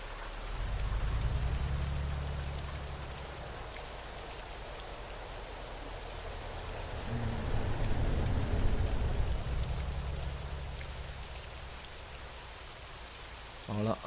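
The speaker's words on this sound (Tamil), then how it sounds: "மழை பெய்யுது அவ்வளோதான்." Rain in the Euro Truck Simulator 2 driving game, a steady patter and hiss of drops on the truck, with a low engine rumble rising and falling underneath throughout.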